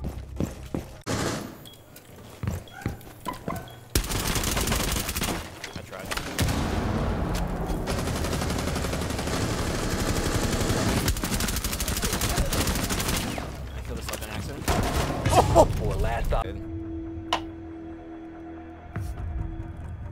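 Gunfire in the Rainbow Six Siege video game, a dense stretch of rapid shots and bursts that stays loud for several seconds, then gives way to scattered sounds with people talking over it.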